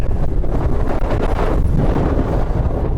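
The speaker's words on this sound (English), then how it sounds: "good Lord, this wind's strong" Strong wind buffets the microphone outdoors in an urban setting, a loud continuous roar with gusting surges and low rumble, no voices over it.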